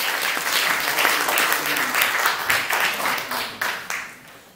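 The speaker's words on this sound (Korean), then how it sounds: "많은 박수 부탁드리겠습니다." An audience at a book launch celebration in Korea gives loud, full applause, many hands clapping steadily for several seconds before it thins out and fades at the end.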